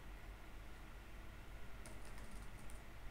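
Faint, rapid keyboard typing as a name is entered into an online university application form, a short run of soft clicks under a steady background hiss.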